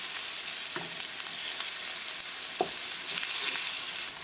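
Tofu cubes seasoned with black pepper and red chili flakes fry over a medium gas flame, a loud continuous hiss with a few soft knocks as the pieces are turned in the pan.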